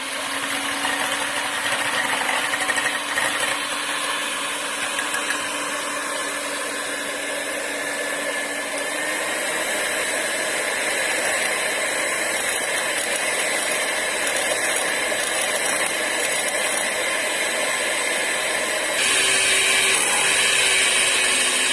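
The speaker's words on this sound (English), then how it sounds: "So we'll start whisking." Egg whites whipped with an electric whisk for keto bun maska, a loud continuous motor whine with rattling beaters that shifts pitch slightly midway and rises near the end, heard alone and close.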